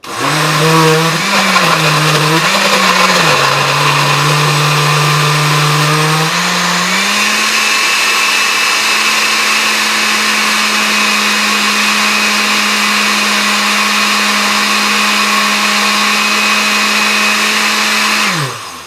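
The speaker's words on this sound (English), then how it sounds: "It says smoothie, so we'll use that. 1, 2, 3, blast off." A kitchen blender whirs through a strawberry banana smoothie, its loud motor wavering in pitch for the first few seconds before settling into a steady, unbroken drone that runs close and alone for about eighteen seconds.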